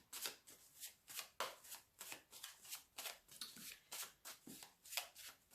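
Tarot cards being shuffled by hand in a steady run of crisp riffling bursts, about a dozen repeated strokes over several seconds, close and fairly soft with no talking.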